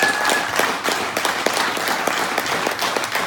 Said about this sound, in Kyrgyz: операционный директор Жылдызга бир жакшылап кол чабалы туугандар.